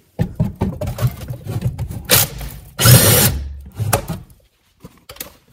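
Power tool spinning a brake drum bolt loose on a 2008 Toyota Prius, short bursts of whirring and rattling with metallic clanks, one longer louder burst near the middle, then quiet with a few small knocks.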